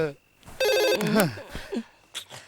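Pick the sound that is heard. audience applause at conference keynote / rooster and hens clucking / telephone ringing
telephone ringing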